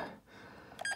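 Two or three short electronic beeps from a Texecom Veritas Excel alarm panel keypad near the end, close and fairly quiet, after a brief muffled moment.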